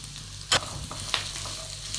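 Chopped onions fry quietly in a pan for mutton curry, a soft continuous sizzle broken by a couple of sharp clacks of a spoon stirring.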